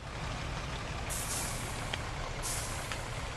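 A truck rumbles with a steady low engine drone as it stops on a large Brazilian map in World Truck Driving Simulator, and two short bursts of air-brake hiss sound about a second apart.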